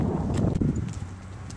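A quarter horse thoroughbred cross mare walking outdoors on a ranch, a few soft hoof clops heard close up under steady wind noise.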